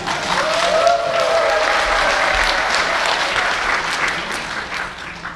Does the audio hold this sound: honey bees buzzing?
no